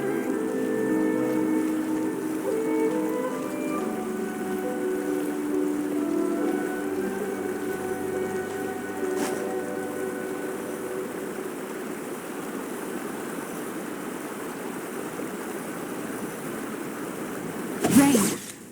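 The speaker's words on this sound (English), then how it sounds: "Rain." Rain falls in a video game as a constant soft hiss across the whole stretch, under gentle sustained music, with a brief sharp noise near the end.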